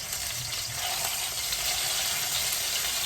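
Chorizo frying in a pan for Bean Enfrijoladas, a steady broadband sizzle holding evenly close by throughout with faint crackle and no talk.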